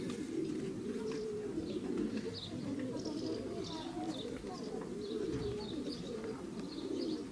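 Racing pigeons coo softly in a loft, overlapping low murmuring calls repeating steadily, with brief higher chirps and some faint background voices.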